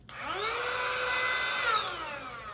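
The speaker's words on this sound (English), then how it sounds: "So we took this out and vacuumed the carpet in the Jeep." A small, cheap handheld vacuum cleaner runs loud and close, its motor whine starting abruptly, holding steady, then dipping slightly in pitch toward the end.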